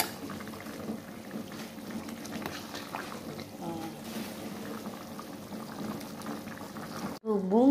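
Beef semur stew with palm sugar simmers in a pan, steady bubbling and sizzling with stirring scrapes throughout, ending with a sharp louder clatter near the close.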